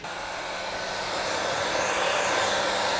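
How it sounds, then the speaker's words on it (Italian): A heat gun, rated up to 600 degrees, blows steadily while warming old glue on an extendable wooden table under restoration, a constant close airy roar that swells slightly partway through, with no voices. "il mio phon arriva fino a 600 gradi in questo momento"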